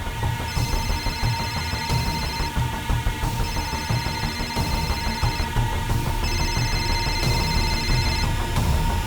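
Telephone bell ringing inside a house, repeating in steady bursts with pauses between rings, loud and close over a constant low background hum, no talking.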